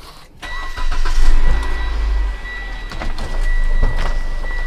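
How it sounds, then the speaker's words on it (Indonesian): A 2014 Mitsubishi Outlander PX with automatic transmission starts up, a brief crank followed by a rising engine roar that settles into a steady mid-pitched idle inside the car, fairly loud and close with no talk. "Sambil kita nyalakan mesinnya."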